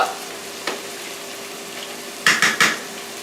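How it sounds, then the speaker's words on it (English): Diced onions sauté with potatoes in a soup pot over high heat, a quiet steady sizzle running under a few sharp metallic scrapes and clinks of a utensil against the pot, with three quick strokes near the end. "So now we have our onion sauteing."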